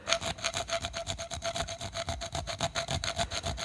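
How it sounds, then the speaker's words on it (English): A rat tail file cuts into a plastic guitar pickguard beside the toggle switch on a Fender/Squier Jaguar, producing quick, even, rhythmic rasping strokes, close and moderately quiet, with no voices. "Just have to carefully file in the middle on each side of the switch with a rat tail file"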